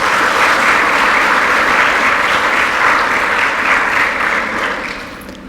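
Loud, sustained applause fills the room after a talk on cultural and prescribed burning, a thick wash of many hands clapping that begins to fade near the end.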